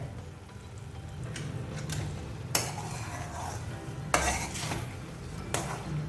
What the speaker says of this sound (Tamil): இந்த மாதிரி நல்லா மிக்ஸ் பண்ணிவிட்டு